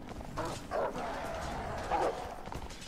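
A dog in the video game Remnant gives two short barks about a second apart, set against a muffled game soundscape with faint voice-like sound.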